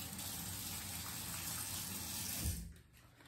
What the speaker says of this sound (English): I put one pump of this in my hand, a small pump, so about that much, and I lather it up with some water